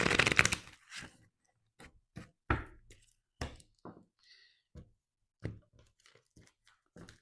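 Tarot cards shuffled and tapped in a series of short, crisp riffles and knocks, with a longer burst at the start, close and alone in an otherwise quiet room.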